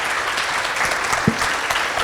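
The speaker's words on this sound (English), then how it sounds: "just give another round of applause and appreciation." An audience at an annual general meeting and keynote session claps steadily, a short dense burst of applause with no voices over it.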